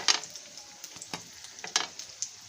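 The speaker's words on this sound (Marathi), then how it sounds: "आता मी ह्या तव्याला तूप लावून घेते आणि तुपावरती हे बर्गर आपण थोडेसे" A veg burger patty fries in ghee on a flat tawa, giving a quiet, steady sizzle with occasional brief scraping and clinking touches.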